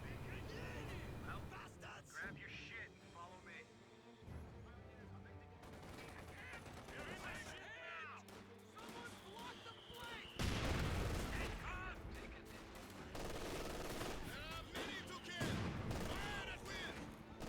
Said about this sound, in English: Mortar half-track getting some great hits right now.